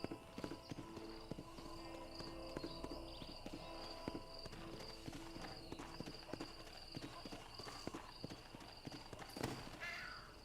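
Horse hooves clip-clop at a steady walking pace in the Red Dead Redemption video game on Xbox One, faint and under a dusty outdoor ambience with occasional distant bird calls.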